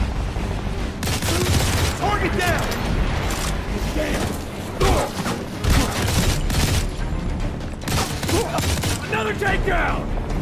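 Near-constant gunfire in the Modern Combat 4: Zero Hour video game, rapid automatic bursts and heavier booms layered over mechanical clatter, loud and sustained, with voices speaking in the game mix.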